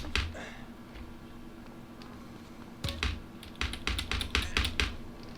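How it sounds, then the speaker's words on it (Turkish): Irregular bursts of key clicks from a computer keyboard, sparse at first and then a quicker flurry of taps, close by over a low steady hum. "Klavye de biraz ses yapıyor arkadaşlar"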